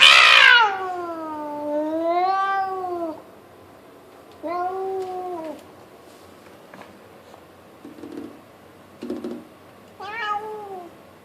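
A feral cat yowls in long, drawn-out wavering cries close by, rising and falling like a distressed child, with shorter calls between and a final yowl near the end, alone without talk.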